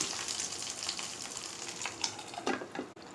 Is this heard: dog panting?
no